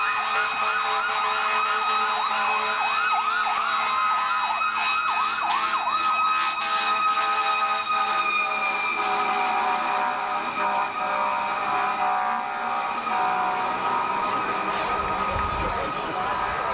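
Wailing sirens from passing fire trucks in a parade rise and fall continuously, loud and close, with a rumbling engine underneath.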